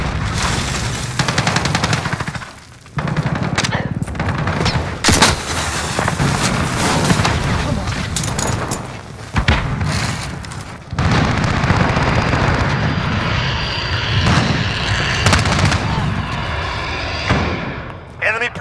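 Gunfire and grenade blasts fill a Call of Duty: Modern Warfare match, with dense rapid bursts of automatic fire and heavy booming explosions coming loud and nearly continuous, with brief lulls and game voice callouts mixed in.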